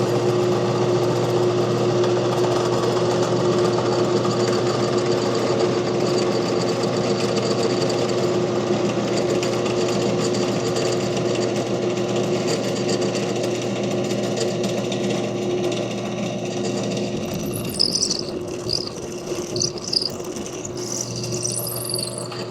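On a workshop machine, a drill bit bores the pin hole for a muzzleloader, giving a loud steady mechanical hum and rattle. Near the end, sharper scraping and grinding bursts break in as the bit cuts.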